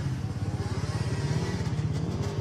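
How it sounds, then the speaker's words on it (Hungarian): Ice motorcycles on the 50 cm thick ice of frozen Palatinus lake during a parade, a loud nearby engine with a rapid pulsing idle rumble, no talk over it. "A Palatinus tó 50 cm-es jegén egy lélegzettel állító motoros felvonulás"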